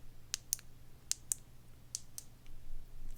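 A sharp switch click on an Olight Arkfeld UV square flashlight, repeated several times at irregular intervals, crisp and close against a quiet room hum.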